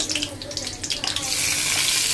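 Onion dropped into hot oil in a pan, a sudden loud hiss and sizzle that swells and then holds steady after some brief handling noises.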